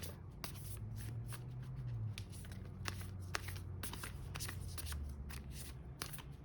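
An oracle card deck being shuffled by hand, a continuous papery riffling and slapping of cards with quick repeated flicks, close and fairly quiet, with no voices.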